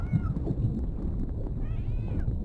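In the Sea of Thieves pirate game, a wet cat meows twice, short rising cries standing out over a constant bed of low game background noise, with no clear speech.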